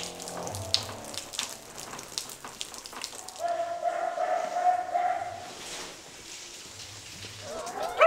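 Dogs at a stray-dog shelter let out scattered barks in the morning, mixed with running water and clatter, moderately close and intermittent.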